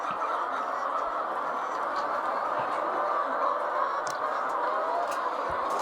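A flock of poultry in a farm pen makes a continuous, crowded murmur of clucking and chattering calls at moderate distance, with no voices over it.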